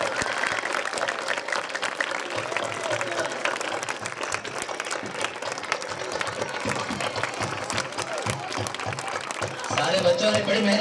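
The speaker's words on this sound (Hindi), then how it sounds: "एक बार जोरदार तालियां" Loud, sustained applause from a crowd at a school's annual celebration honours a student who came first, dense clapping holding steady throughout and swelling near the end.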